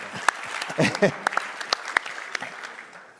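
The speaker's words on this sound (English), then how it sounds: "Now, yeah, you can clap for that as well." Scattered, uneven clapping from a small lunch-event audience, with sharp individual claps and brief voices mixed in.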